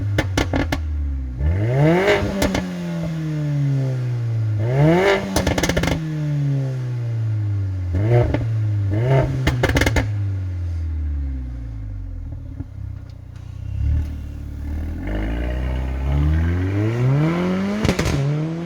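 A Mercedes A45 AMG with a sport exhaust, downpipe and sports catalyst revs repeatedly. The engine sweeps rise and fall close by, with sharp, crackling peaks between the revs. No one speaks.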